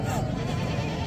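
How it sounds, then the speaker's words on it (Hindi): Goats bleat loudly and continuously at a livestock market, with a thick, close wash of animal calls and crowd noise filling the whole moment. "तो बकरे हैं 4 बकरियाँ और 2 बकरे माशाल्लाह।"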